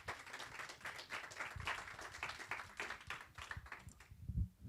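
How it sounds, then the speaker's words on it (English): Applause from the audience at a floorball summit, a steady stream of clapping with distinct individual claps standing out, fairly quiet and distant, and a soft thump near the end. "please let's give a round of applause to great Ilkka Halava."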